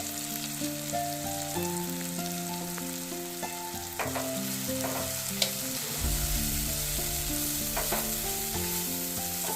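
Dry spices sautéed with tomato and onion in a pan give a steady sizzle and occasional stirring scrapes, with sustained tonal music running underneath throughout and no talking.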